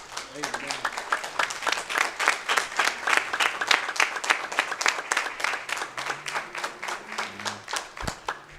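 A church congregation at Historic Bethel AME in St. Petersburg, Florida, applauds to welcome the SCLC president, the clapping falling into a rhythmic, pulsing beat, moderately loud and close, with a voice sounding near the end.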